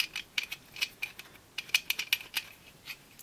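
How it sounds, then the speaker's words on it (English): A bolt being reinserted and screwed into a hand tool, giving a rapid series of light metallic ratcheting clicks and ticks, close and fairly quiet. "reinsert the bolt, screw it in,"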